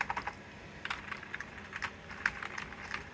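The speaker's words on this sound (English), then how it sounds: "This is a Dell USB keyboard." Keys clack on a Dell USB keyboard in quick, uneven bursts of taps with short pauses between, close and fairly quiet, with no voices.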